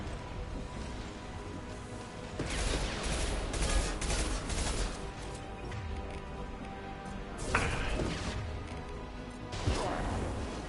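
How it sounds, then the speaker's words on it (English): Impact gun fire in a video game comes as rapid bursts of heavy crashing blasts and whacks, loud and dense, with short sharp hits standing out among the barrage. "Firing an impact gun!"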